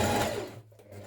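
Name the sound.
sewing machine understitching dress pockets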